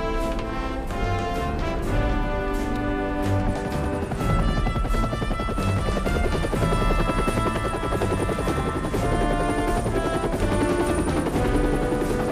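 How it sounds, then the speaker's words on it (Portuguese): Helicopter hovering overhead in a police crime film, a loud, steady rotor roar with rapid chopping pulses filling the whole stretch without a break. "Agora um helicóptero vai pairar acima de"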